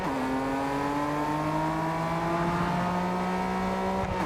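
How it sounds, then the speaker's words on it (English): A V6 sports car in a video game holds a steady, buzzing exhaust drone at high revs, its pitch climbing slowly and evenly, then dropping sharply at the end as if shifting. "The exhaust noise, the note there."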